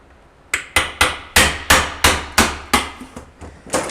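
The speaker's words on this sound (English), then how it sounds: "I always need a bigger hammer." Steady hammer blows strike metal about three times a second while working on a 243C transfer case from a 1998 Chevy 1500 5.7L, each hit sharp and ringing, close and loud, with no talking.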